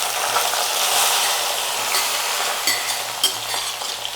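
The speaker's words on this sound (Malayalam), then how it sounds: "ഇനി നമുക്ക് നമ്മുടെ വഴുതനങ്ങ ഇതിനകത്തോട്ട് ഇട്ട് കൊടുക്കാം കുറേശ്ശായിട്ട്" Brinjal pieces frying in hot oil in a pan while being stirred, a loud steady sizzle with occasional scraping clinks of the spoon, close up with no talking.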